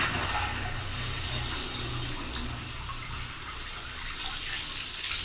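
Hot water tap running into a pressurised plumbing system, a steady, soft hiss of flowing water at moderate distance, continuous and alone without talk.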